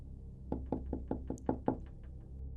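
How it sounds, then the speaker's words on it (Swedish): A sound-effect knock on a door, about seven sharp raps in a steady rhythm, close and clear with no talking. "hörde knackningarna på dörren, denna gång högre än förra gången"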